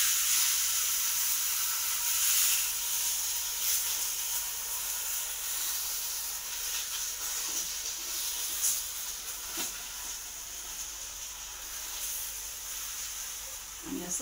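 Dhapata flatbread laid into oil on a hot tava sizzles with a steady, bright hiss that stays close and even throughout, with faint crackling spits along the way.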